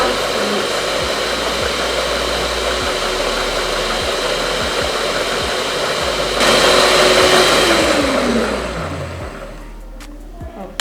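An electric mixer whirs steadily through cake batter, a constant motor drone that rises in pitch and strain near the end before winding down and cutting out.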